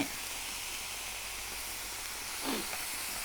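Broth for Vietnamese-style noodle soup boils in a pot with a steady steamy hiss, and a short louder bubbling surge comes near the end.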